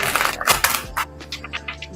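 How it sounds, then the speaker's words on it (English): Tarot cards are shuffled in a brief burst of close, crisp riffling and slapping clicks that fade into a few lighter taps. "I'm gonna do some good shuffling."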